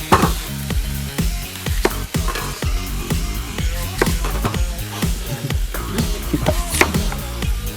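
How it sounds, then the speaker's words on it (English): Bacon frying on a cooking setup out of a van crackles and pops continuously, with loud sharp spits scattered throughout over a steady sizzling hiss, close and alone. "while the bacon is cooking"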